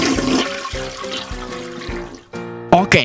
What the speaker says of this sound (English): make sure to wash your hands.